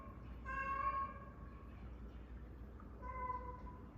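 A part-Siamese cat meows twice nearby, a drawn-out vocal call followed by a shorter one about two seconds later, over a low background hum.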